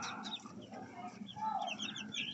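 A mother hen clucks in short, soft, repeated calls near her chicks, faint and close with slight background noise and no talk.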